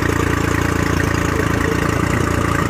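A carbureted Honda 40/50 HP outboard motor with an electric choke idles steadily, a close, loud, rapid rhythmic putter that holds an even pace throughout with no talk.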